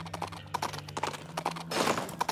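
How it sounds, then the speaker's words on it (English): Horse hooves clip-clopping in the Princess Peach Showtime video game, a quick rhythmic stream of light hoof clicks, near and moderately loud, ending in a burst of busier game noise. "Time to ride a fake horse."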